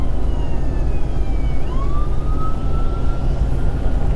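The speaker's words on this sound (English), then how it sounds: "Ambulance." Ambulance siren in Aurora, Colorado, heard from inside a truck cab: a single rising then steady wail rises faintly above the constant low road rumble.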